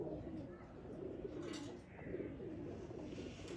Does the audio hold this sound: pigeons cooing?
yes